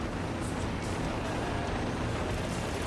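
Steady, loud aircraft engine drone from a jet in the combat flight simulator DCS World, a constant broadband roar with a heavy low rumble that fills the whole stretch without pause.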